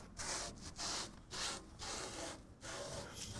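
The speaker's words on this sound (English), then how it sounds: "we're going to clean the top surface of the bulkhead with some rubbing alcohol" A rag wiped across the top of a pickup truck bed bulkhead with rubbing alcohol, producing rhythmic back-and-forth rubbing strokes, close and soft, with no talking.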